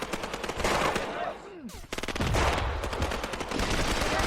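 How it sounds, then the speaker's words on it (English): Machine gun fire in the video game Graviteam crackles in loud, rapid bursts. The firing is sustained and pauses briefly partway through before resuming in dense rattling volleys. "Let's go ahead and fire at will."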